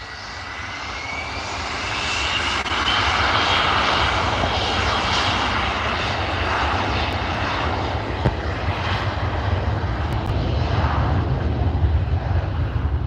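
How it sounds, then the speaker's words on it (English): An Air Charter Scotland jet departs Liverpool Airport, its engines a loud, steady roar that holds throughout without a break, heard at a distance across the airfield with no talk. "that's your Air Charter Scotland for G Gadab going off to Chambéry"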